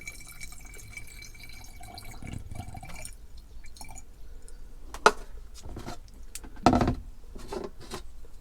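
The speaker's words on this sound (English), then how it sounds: "let's put the water in" Water poured into a steam cleaner's tank runs as a steady, moderate splash for a few seconds, followed by quieter trickles and two sharp plastic clunks, with no talking.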